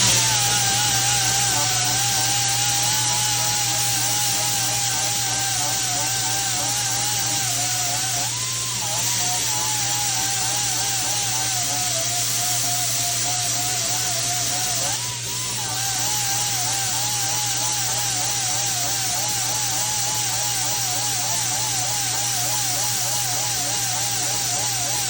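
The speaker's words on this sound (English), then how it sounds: "The easiest way to do it is with a cookie wheel. Just a fine cookie wheel." A fine cookie wheel abrasive spinning on a power tool against metal during an oil abrasion test of Schaeffer's racing oil, a loud, steady high whine that wavers in pitch with pressure and dips briefly twice.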